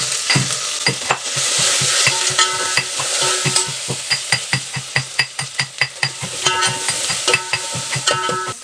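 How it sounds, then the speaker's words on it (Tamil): Mustard seeds, dried chillies, curry leaves and onion tempering in hot oil in a pan for sambar, a steady close sizzle broken by repeated sharp clinks and scrapes of a spoon stirring against the metal. "கொஞ்சமாக கடுகு காஞ்ச மிளகா கருவேப்பிலை ஆனியன்"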